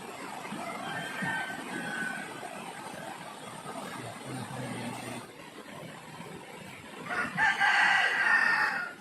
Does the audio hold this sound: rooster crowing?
yes